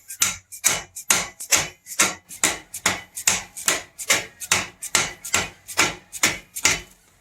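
A hammer strikes steadily about twice a second, with roughly fifteen sharp, close, loud metallic knocks, driving a new kickstart lever onto the shaft of a 1973 Honda CL450 motorcycle, with no talking.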